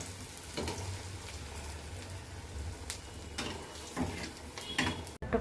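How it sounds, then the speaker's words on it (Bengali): Eggplant slices coated in gram flour batter fry in hot oil, giving a soft continuous sizzle close by, with a few sharper bursts and light clinks of utensils, and no talk. "বেসনের কোট মাখানো হয়ে গেছে, এবার তেলে ছাড়বো। এই দেখো তেলের মধ্যে ছেড়ে দিলাম"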